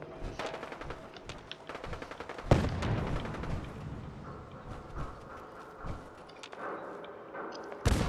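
Gunfire from super mutants battling gunners in Fallout 4 rattles in irregular bursts, with sharp cracks and a heavier nearby blast amid a dense, ongoing clatter of distant shots.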